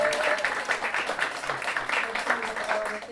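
Audience applause at a live storytelling show, steady clapping from a crowd throughout with some voices mixed in.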